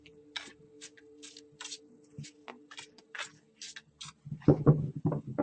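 Crisp riffling and soft slaps of tarot cards being shuffled in quick bursts, close by, with a steady low hum beneath and some louder handling at the end.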